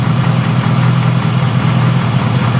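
A vehicle engine, little driven for several years, idles steadily and loudly up close, a constant low rumble with no talk over it.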